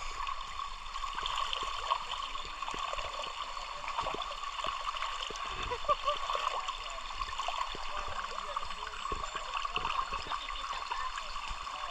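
A river flows and trickles steadily with faint, continuous gurgling and small splashes where people are wading in the water, quiet and ambient throughout.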